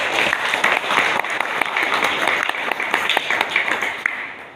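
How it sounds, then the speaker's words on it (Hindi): Loud applause from an audience at a Bhagavad Gita group gathering, dense steady clapping from many hands, close and sustained. "मैं आप सबसे निवेदन करता हूँ कि इनके इस भव्य दिव्य सेवा के लिए जोरदार ताली की गुजारिश।"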